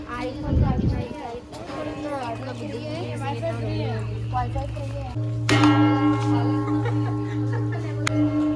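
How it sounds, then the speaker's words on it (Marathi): People chat and laugh, then the large bell of the bell tower at the Global Vipassana Pagoda, Gorai, is struck once, its loud clang ringing out and sustaining for several seconds. "Bell tower."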